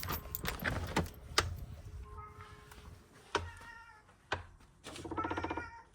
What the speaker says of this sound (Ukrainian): Зараз покажу, як мене зустрічає кіт вдома.